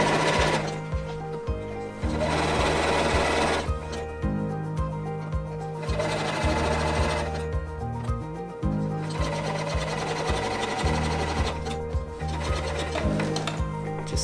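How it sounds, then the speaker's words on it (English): A sewing machine runs in sustained bursts, top stitching a seam on a baker boy cap, its motor whirring loudly with a steady mechanical buzz, pausing briefly between runs. "You're going to stitch using that seam line as a guide."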